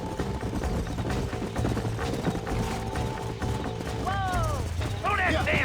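Horses in the video game Red Dead Redemption: steady clip-clopping hooves and clattering gear under constant mixed game sound, then a couple of rising whinnies near the end.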